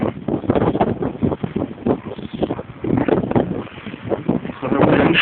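Wind howls during a blizzard, a loud, steady broadband roar with buffeting gusts hitting the microphone throughout, and no voices.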